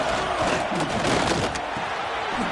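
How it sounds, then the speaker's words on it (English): A packed Auburn football stadium crowd roars steadily during a third-down play against Texas, a dense, loud, sustained wall of cheering and yelling throughout. "This Auburn crowd trying to conjure up a little magic here on third down"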